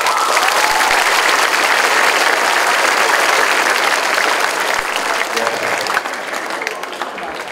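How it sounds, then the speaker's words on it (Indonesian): Loud, close applause from students at a school flag ceremony at SMPN 33 Bandung, a dense wash of clapping that holds steady and then gradually thins and softens toward the end. "Tepukkan"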